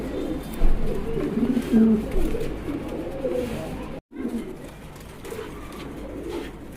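Pigeons on a pigeon farm coo steadily and close by, a low rolling murmur of several birds that drops out for an instant midway and then resumes.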